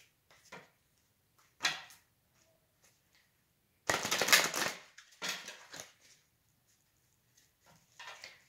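Tarot cards are shuffled by hand in a quiet room, giving short bursts of riffling and flicking with one longer, louder shuffle in the middle and silent pauses between.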